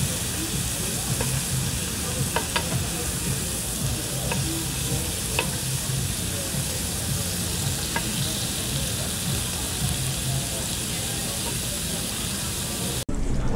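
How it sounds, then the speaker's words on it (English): Bulgogi and short rib sizzle on a hot grill at a hot pot and BBQ restaurant, a steady, loud, close frying hiss that runs continuously with a few faint clicks and no talk. "Let's get everything cooking here. A little bit of short rib."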